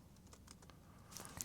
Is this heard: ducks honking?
no